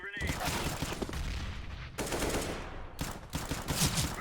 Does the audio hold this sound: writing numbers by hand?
no